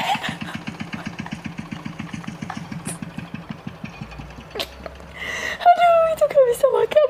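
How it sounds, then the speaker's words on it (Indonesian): A rice field tractor engine chugs in rapid, even putters for several seconds, then fades under excited voices and squeaky, whiny sounds. "ini kan traktor buat di sawah"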